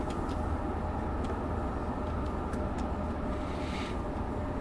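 An ALP-45DP locomotive hauling a train on the Morristown Line in Train Sim World 6 slows under dynamic braking, a steady low rumble and rolling hum with faint high clicks, continuous and even throughout.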